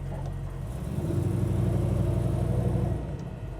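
A 1963 Chevrolet Nova custom restomod rolling slowly over a speed bump, a low steady engine rumble that swells briefly in the middle, heard from inside the car.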